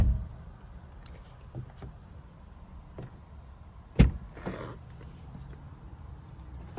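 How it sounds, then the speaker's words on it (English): A BMW Z4 coupe (E86) door shuts with a single solid, heavy thump near the middle, followed by a softer latch knock, over quiet background rumble. "something about the door sound. It just sounds so good. It sounds so solid."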